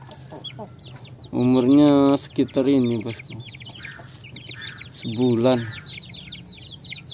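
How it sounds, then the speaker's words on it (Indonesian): Month-old Bangkok-breed chicken chicks, a busy stream of high, rapid peeping calls throughout, close by, while someone speaks over them at intervals. "Ini ada anak ayam saya, bosku. Anak ayam keturunan Bangkok."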